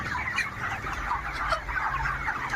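Dense chorus of chickens clucking and calling on a poultry farm, a steady continuous flock sound with overlapping birds, fairly close and loud throughout.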